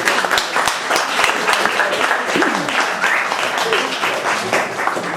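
An audience claps at a community event at Shrewsbury House, with sharp individual claps standing out over a continuous wash of applause and voices talking underneath.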